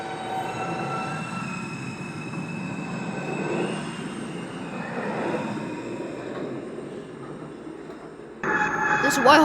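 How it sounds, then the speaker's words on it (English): A Queens-bound R subway train at Whitehall Street in a Roblox game rumbles and hums at the platform, with wheel squeal and a sharp jump in noise near the end; a voice speaks over it at times. "This is the Queens-bound R train."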